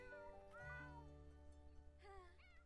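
Cats meow repeatedly in The Sims 4, with several drawn-out, fairly clear calls that overlap near the end, alone and without talk.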